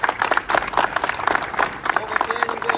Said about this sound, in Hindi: 43 44 दोनों के लिए ताली बजाओ रे